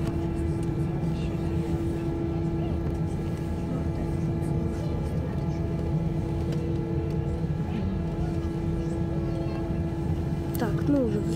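Ural Airlines Airbus A321-200 taking off from Moscow, a steady loud cabin roar of engines with a constant drone throughout, people talking over it in Russian, and a brief rising whine near the end.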